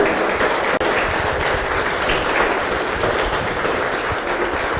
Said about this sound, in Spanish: les voy a pedir un aplauso